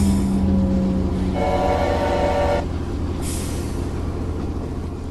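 A steam train whistle blows in the video game Choo-Choo Charles, a loud sustained tonal blast over steady rumbling locomotive running noise, followed by continued chugging and hiss with no talk.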